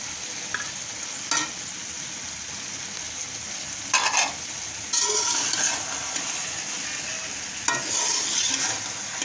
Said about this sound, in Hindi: ये देखिए हमें 5 मिनट हो गए लगभग इसको भूनते हुए।